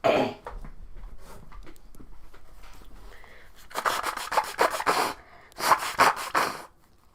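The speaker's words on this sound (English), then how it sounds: "I need to blow my nose." Rough, breathy blowing bursts come in a few clustered rushes, like someone blowing their nose, with soft rustling in between.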